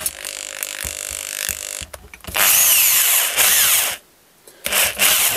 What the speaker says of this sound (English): When the eye rivet begins spinning, I tilt the drill sufficiently to re-grab the top of the eye rivet.